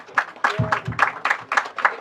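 Applause from a crowd at a memorial gathering celebrating a late mother's life, a short burst of rhythmic, fairly close hand clapping.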